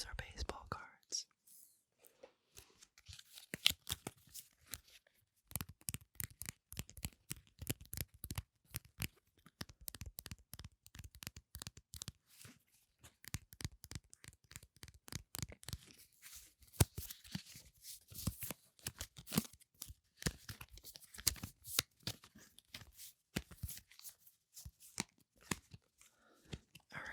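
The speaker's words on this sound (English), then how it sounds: "Those are baseball cards." Baseball cards handled and shuffled close up, giving a steady run of crisp, quick flicks and papery taps with short pauses, soft and intimate, with faint whispering in places.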